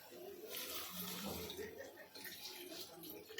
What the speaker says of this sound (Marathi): आता आपण पाणी टाकणार आहोत